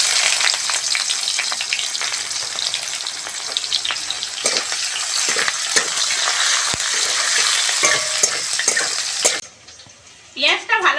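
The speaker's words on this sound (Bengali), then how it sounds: "ওই তেলের মধ্যে কুচনো পেঁয়াজ দিয়ে দেবো।" Chopped onion frying in hot oil for a Bengali fish curry, a loud, dense, crackling sizzle with stirring scrapes that drops away abruptly near the end, followed by a brief faint voice.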